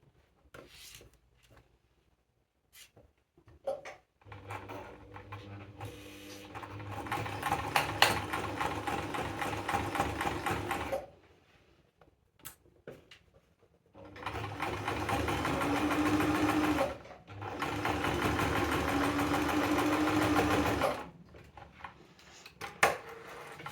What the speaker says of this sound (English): Now, top stitch, which I could do by hand, but I'm going to do it on the machine.